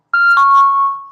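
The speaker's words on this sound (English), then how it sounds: "Such an annoying alarm." Electronic alarm going off indoors, a loud, pure, sustained beeping tone with a short first chirp followed by a longer ringing note that fades out at the end.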